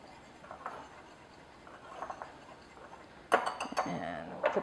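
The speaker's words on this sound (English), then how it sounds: "I'm just going to whisk that together" A whisk stirs flour, baking powder and salt together in a bowl, making soft scraping and light ticks at first, then sharper, quicker metallic clinks against the bowl toward the end.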